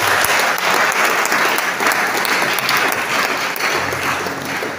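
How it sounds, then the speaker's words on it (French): A church congregation at a French-language baptismal service applauds and cheers steadily, the loud, dense clapping filling the whole space from start to finish with no pause. "donne des acclamations au roi de l'Ordre"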